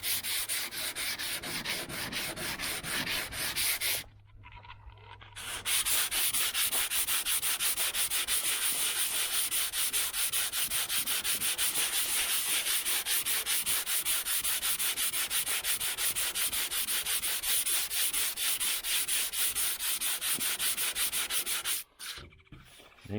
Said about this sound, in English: You break it down about that far with a 80 grit DA, and you block it.